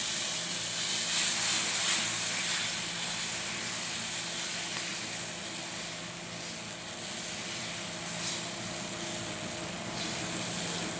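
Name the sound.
adai batter sizzling on hot pan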